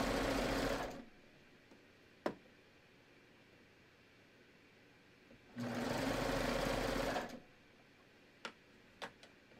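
Sewing machine stitching around the armhole of a T-shirt, skimming the fabric layers: two steady bursts of close, even stitching separated by a pause, with a few sharp clicks and taps afterward.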